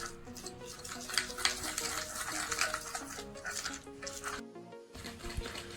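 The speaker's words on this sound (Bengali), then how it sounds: "এভাবে চামচে নাড়াচাড়া করার সাথে সাথে কফির ফোমটা তৈরি হতে শুরু করেছে" A spoon beats instant coffee and sugar in a cup into a thick foam, producing a steady, busy scraping and whipping that runs throughout, with a faint tonal background underneath.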